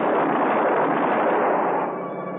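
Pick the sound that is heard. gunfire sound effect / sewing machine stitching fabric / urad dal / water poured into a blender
gunfire sound effect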